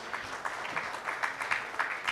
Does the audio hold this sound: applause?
yes